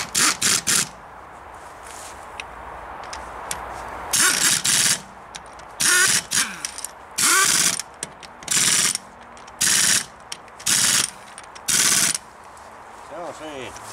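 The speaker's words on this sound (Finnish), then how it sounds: "Pulttikone pelloo aika hyvästi nyt, kun se tuli siellä purettua" Pneumatic bolt machine driving wheel bolts during tyre work in a yard, giving repeated short loud bursts of whirring and ratcheting, about eight in a row with brief pauses between them.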